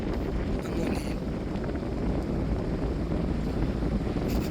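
A boat ride on the Mekong River in Laos, a steady low rumble of engine and water with heavy wind buffeting the microphone, continuous throughout, while someone talks over it.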